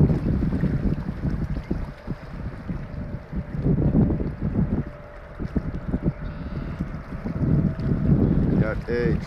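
Steady wind buffets the microphone in gusty rumbling bursts at sunrise, with choppy waves slapping nearby and a faint voice underneath.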